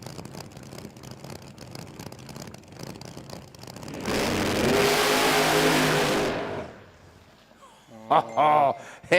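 A drag racing car at the Garrett Brisbane Jamboree gives one loud, sustained rev lasting a few seconds. Talk comes before and after it.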